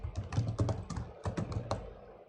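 Someone types on a computer keyboard nearby, the key clicks coming in quick, uneven bursts with a short pause midway, with no talking.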